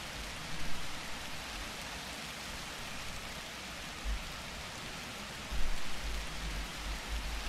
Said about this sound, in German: Ach, der Regen.